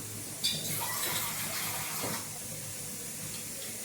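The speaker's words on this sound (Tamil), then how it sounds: "கொஞ்சம் தண்ணி ஊற்றிக்கலாம்." Water pours steadily into a cooking pot of horse gram rasam, a continuous splashing rush with a brief louder splash near the start.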